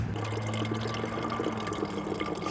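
Water from a tap pours steadily into a container at a desert camping stop, a constant close rushing stream with a low hum underneath and no talking.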